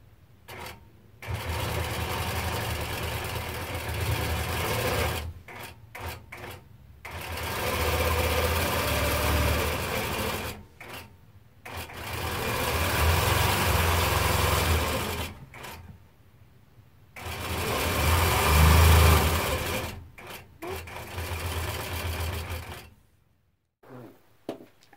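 A Nolting Pro-Series longarm quilting machine sews binding onto a quilt, running in several sustained bursts of steady mechanical hum separated by brief pauses, close and fairly loud with no talking.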